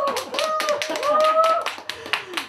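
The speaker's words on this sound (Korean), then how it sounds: "박수!" Clapping from a small crowd at a year-end gathering, a few seconds of quick hand claps under a voice speaking over them.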